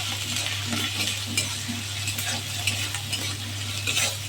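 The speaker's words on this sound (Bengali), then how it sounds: "পেঁয়াজ বাটা দিয়ে দিচ্ছি, পেঁয়াজ ভেজে নেব" Onion paste being fried with spice pastes in a pan while it is stirred, giving a continuous close sizzle with frequent spoon scrapes and clinks over a constant low hum.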